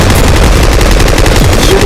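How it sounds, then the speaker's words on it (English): Gunfire in the first-person shooter Double Action, a dense, loud and continuous stream of shots with no gaps, heard alone without talk. "Shooting him in slow motion."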